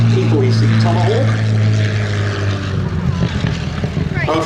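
Curtiss P-40C Tomahawk fighter flying over the runway threshold at the Duxford Battle of Britain Airshow, a loud droning piston-propeller engine under continuous public-address commentary.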